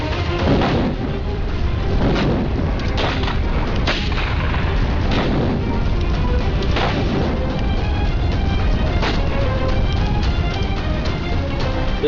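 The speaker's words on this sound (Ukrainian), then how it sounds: "Як бачите, хлопці, сила вибуху невелика" Loud, sustained blasts and crackling booms from a small demonstration explosion fill the clip, with repeated sharp bursts over a constant roar, like a nearby explosion and its rumbling aftermath.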